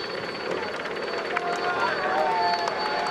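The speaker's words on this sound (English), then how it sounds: "there we see the choppers of the VIPs" Helicopters carrying VIP guests fly over the Tour de France stage 1 race in 2019, a steady rotor and engine drone sustained throughout over a busy outdoor crowd background, with commentators talking over it.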